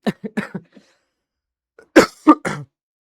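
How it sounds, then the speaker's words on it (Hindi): A teacher coughs during a lecture: a series of short, dry coughs in quick bursts, then a pause and another cluster of three harsher coughs, close and fairly loud. "सॉरी बेटा, खांसी आ रही, क्या बताऊं।"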